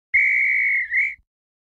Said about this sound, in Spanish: Y este silbato.